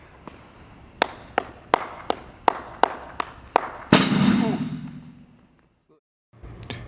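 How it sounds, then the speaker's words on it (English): Marching cymbals: a run of sharp, evenly spaced metallic taps, then a louder scissor-and-suck crash that swells and fades out, followed by a short silence. "move your right cymbal along the left cymbal to get the scissor sound"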